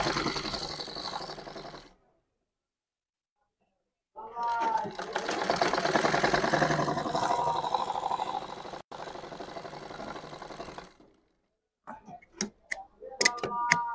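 A sewing machine stitches trouser fabric in a tailoring lesson, running in two sustained rapid-ticking bursts separated by a silent pause, followed by a few short clattering stops and starts.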